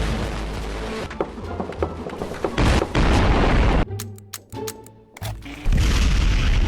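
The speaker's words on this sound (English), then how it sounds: "I can spawn nuclear explosions." A nuclear explosion in the Garry's Mod sandbox game lets out loud, deep booming blasts with a rumbling tail, then a short quieter stretch and one more powerful blast near the end.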